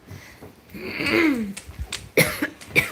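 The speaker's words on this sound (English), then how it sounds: "I'm trying so hard not to cough" A wheezy, strained breath is followed by two short, sharp coughs, close and fairly loud.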